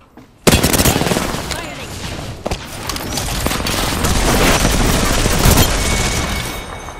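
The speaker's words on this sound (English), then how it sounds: "Shooting at me." Gunfire in an Apex Legends match erupts suddenly after a quiet moment and continues as loud, dense rapid shooting with overlapping shots and impacts, building slightly over several seconds, with a voice talking underneath.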